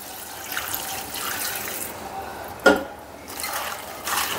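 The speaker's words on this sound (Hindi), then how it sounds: "अब इसे चलिए धो लेते हैं।" Sliced cabbage is washed under a running kitchen tap, producing a steady splashing water flow with a brief sharper clatter midway.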